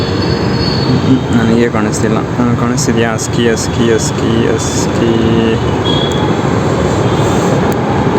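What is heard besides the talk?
metro train passing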